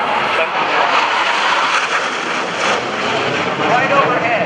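An A-4 Skyhawk jet passes right overhead at an airshow, climbing without afterburner, its loud, steady broadband engine roar filling the whole stretch without any let-up.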